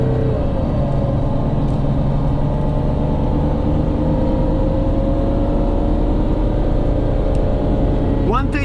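A 2011 Mercedes Sprinter van with a 3.0L diesel, just repaired for low turbo boost, pulls at full throttle from inside the cab, a loud steady engine drone and rumble climbing slowly in pitch.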